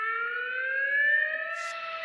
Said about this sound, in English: That we're getting the air horn.